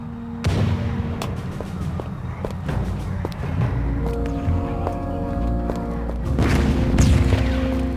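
Automated turrets fire in a Van Helsing game battle, a rapid run of sharp booming shots with heavier blasts near the start and end, over a low rumbling battle bed.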